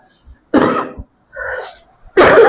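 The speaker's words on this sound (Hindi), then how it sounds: "हमारी पूरी क्लास जो है खांसी से परेशान है" Coughing in a classroom: several separate harsh coughs and throat-clearing bursts in quick succession, close and fairly loud, with brief pauses between them.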